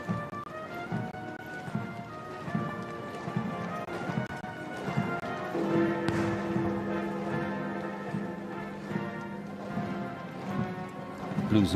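Horses of the Blues and Royals, followed by the drum horse, clip-clop at a slow procession pace through London streets during a state funeral, a steady, fairly distant clatter of hooves among crowd murmur and a sustained brass tone.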